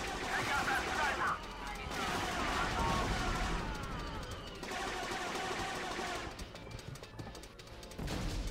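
Blaster-style gunfire in the Star Wars Battlefront II video game, rapid volleys and bursts in a forest battle, fairly quiet and continuous with layered shots and rumble, mixed under game audio.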